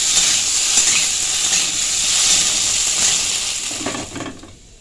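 Cauliflower fries in mustard oil in a pan, giving a steady, loud, close sizzle and hiss that continues evenly before fading toward the end.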